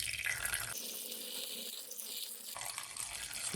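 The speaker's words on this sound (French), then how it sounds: "je vais ajouter 100 grammes d'eau" Water is poured into a paint mixture, a thin steady trickling stream that runs for a few seconds, quiet and close, with no voices.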